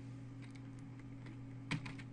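A password being typed on a computer keyboard: a few faint, sparse keystroke clicks over a steady electrical hum, with one slightly louder tap near the end.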